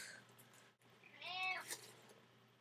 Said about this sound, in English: My cat just said hi.